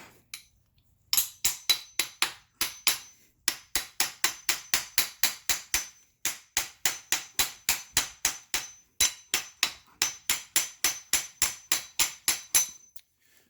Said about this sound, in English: you're going to have to take a hammer. And you're going to have to just bang around the top